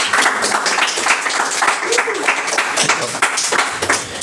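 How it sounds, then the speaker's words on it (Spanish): Audience applause for the creators of the comic "3 casas en Santa Mónica" at its book presentation: a sustained burst of many hands clapping, loud and close, with some voices mixed in. "Fuerte aplauso para ellos."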